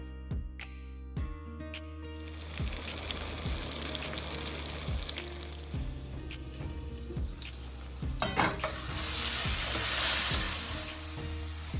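Chopped tomatoes softening in a covered pan over medium heat, a steady sizzle and bubbling that holds throughout with occasional faint clinks, building slightly louder toward the end.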